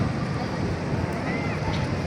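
Steady, roaring wind buffets the microphone, a constant broadband rush filling the whole clip with voices faintly mixed underneath.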